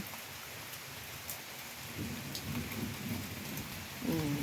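Steady rain pours down continuously, with a low rumble of distant thunder building near the end.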